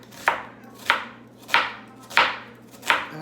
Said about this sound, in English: And I'm just slicing it into really thin little pieces like that.